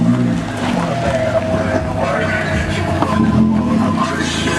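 Engine and exhaust of a 2014 Toyota Corolla with a fully straight-piped exhaust idling and rumbling close by, a raspy, droning low growl that holds steady throughout.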